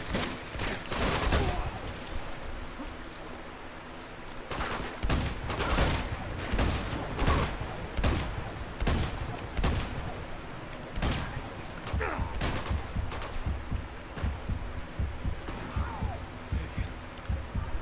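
Sharp repeated gunfire bursts from the video game Uncharted 2: Among Thieves, loud and close, firing in irregular clusters over a steady background with no talk.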